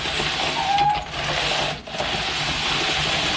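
A hand-cranked ice cream maker churns ice with some water in it, giving a continuous close grinding, rumbling whir that briefly dips twice before carrying on steadily.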